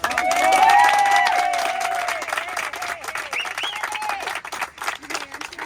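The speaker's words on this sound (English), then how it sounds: "So I think we should give Sandy a great round of applause" An audience bursts into steady applause for Sandy, with clapping and a few cheers swelling early and then thinning out, while voices call and chatter over it.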